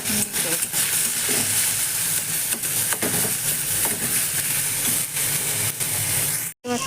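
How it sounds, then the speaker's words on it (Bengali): Ingredients frying in a pan while preparing a taro-leaf mash, a steady broadband sizzle and hiss running throughout with faint clicks of stirring, close and fairly loud, briefly cut off near the end. "হালকা করে ভাজা হয়ে গেছে, এবার একটু নাবিয়ে নেবো।"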